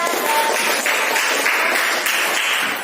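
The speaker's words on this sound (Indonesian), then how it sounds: "Beri aplaus sekali lagi untuk yang bertanya." Classroom applause for a student who asked a question during a school lesson, a loud, dense burst of many hands clapping steadily for about three seconds.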